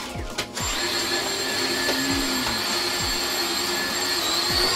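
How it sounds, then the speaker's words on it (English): A household vacuum cleaner runs indoors with a steady, loud whine and roar, broken by a few soft low thumps as it is pushed around the floor. "I just finished up vacuuming a little bit"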